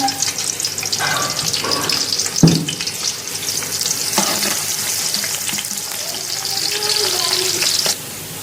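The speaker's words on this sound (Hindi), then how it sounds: "जी ऑयल गर्म हो गया, इसमें डालेंगे सबसे पहले प्याज" Onions sizzle steadily in hot oil for chicken pulao, a loud continuous crackle with occasional stirring scrapes.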